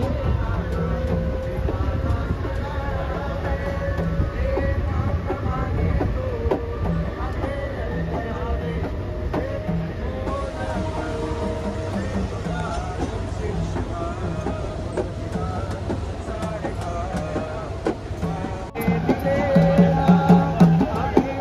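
Steady rumble and rattling clatter inside a packed Thane slow local train in Mumbai, with continuous crowd chatter throughout and a louder burst of rolling noise near the end.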